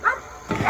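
A dog gives two short yips or barks nearby in a workshop, with a quiet gap between them.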